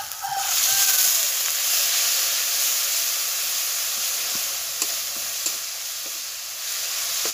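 A little water meets sizzling ground coriander paste in a hot pan, raising a loud steady hiss of frying and steam that continues with faint occasional clicks of stirring, close and with no voices.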